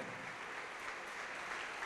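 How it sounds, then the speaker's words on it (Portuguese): A church congregation applauds during a worship service, a soft, continuous patter of many hands heard from a distance at low volume. "Vamos aplaudir ao Senhor."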